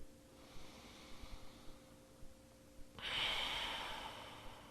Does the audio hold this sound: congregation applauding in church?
no